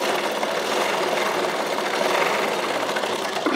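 Sewing machine stitching a straight seam on a blouse, a continuous close, steady mechanical whir and rapid needle chatter running without a break.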